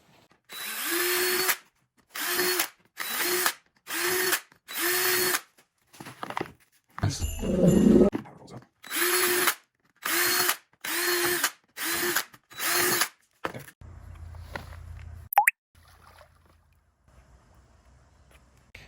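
A power drill whirs in about a dozen short, loud bursts close by, boring into plastic, each separated by a brief pause before everything falls quiet.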